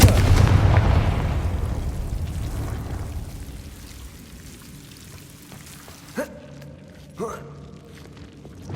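A Confringo fire spell in the video game Hogwarts Legacy lands as a loud, booming blast that fades out slowly over several seconds. Two smaller, sharp impacts follow later in the clip.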